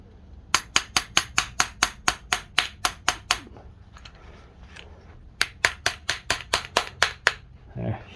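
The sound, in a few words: tapping carburetor bowl of Yard Machine snowblower loose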